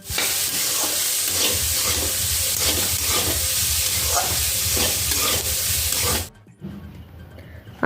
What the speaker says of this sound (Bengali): আলু, বিনস, সিম একসঙ্গে ভাজা হচ্ছে